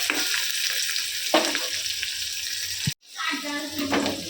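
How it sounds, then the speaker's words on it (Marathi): Onion, tomato, chili and curry leaves fry in oil with a close, steady sizzle and spatter, punctuated by stirring scrapes, a brief cut to silence, then the sizzling resumes. "कांदा, टोमॅटो, मिरची, कढीपत्ता हे कापून ठेवलेलं. तेल वगैरे टाकलेलं. तेलात परतायचं आहे"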